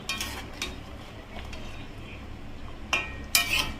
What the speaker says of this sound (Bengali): একটু তলা দিয়ে হালকা নাড়িয়ে নিলেই হয়ে যাবে।